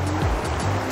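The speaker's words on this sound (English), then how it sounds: "You can see the water is flowing down" Water pours down a waterfall at Pinawa Dam, a steady close rushing roar with low rumble, continuous and alone for under a second.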